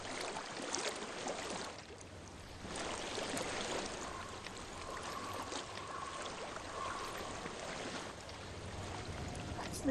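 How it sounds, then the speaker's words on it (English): Water flows steadily in a soft, continuous wash with a gentle rushing texture in the video game Hellblade: Senua's Sacrifice, fairly quiet and alone with no voices. "I hear water. Go to it."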